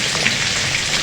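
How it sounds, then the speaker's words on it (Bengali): Hilsa fish pieces frying in hot oil in a pan, giving a steady close hiss and crackle like light rain, even in level throughout with no talking. "এ পাশটিও আমরা খুব সুন্দরভাবে ভেজে নেব।"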